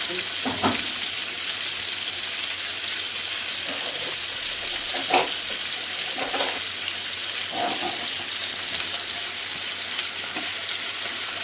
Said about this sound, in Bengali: এটা মশলাটা আবার তাড়াতাড়ি ভাজার জন্য একটু দিয়ে দেবো